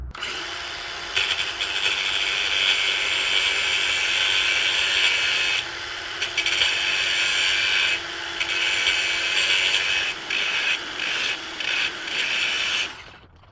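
Wood being cut to make an indirect percussion stick for flintknapping: a loud, steady mechanical buzz of cutting runs almost continuously for about thirteen seconds, with short dips and gaps near the end as the cuts stop and restart.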